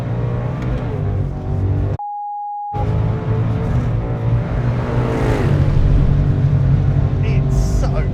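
A fast sports car, a Corvette ZR1 or Ford Mustang GTD, roars loudly on a track with a dense, rising engine drone and shifting pitch under it, interrupted by a brief electronic beep tone.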